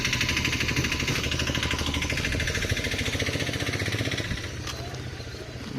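A vehicle engine idles at a house construction site, a loud, close, steady chugging pulse that eases slightly toward the end.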